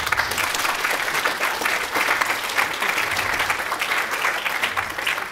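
A music gala audience applauds its teachers with dense, steady clapping that fills the hall at an even level for the whole stretch, with no voices rising above it.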